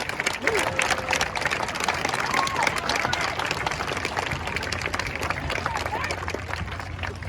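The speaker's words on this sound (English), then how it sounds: "how about one more round of applause for our great 8th grade choir?" Audience at an 8th grade graduation applauds the school choir, dense clapping throughout with scattered cheers and crowd murmur mixed in.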